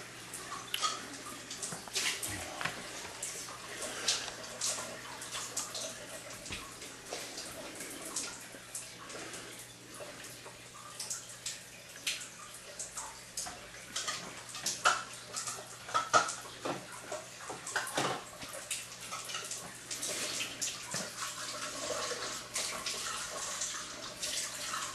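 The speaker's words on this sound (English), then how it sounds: "So here's a full water flow test" A Gold Fox EP1000 water ionizer running at full flow rate: a steady, close, continuous rush and hiss of running water that stays unbroken throughout.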